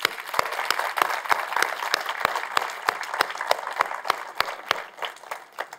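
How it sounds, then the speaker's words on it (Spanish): Applause in a church congregation honouring parents, with crisp, prominent rhythmic claps standing out near the listener over a softer background of scattered clapping, keeping a steady beat for several seconds. "un aplauso para ellos."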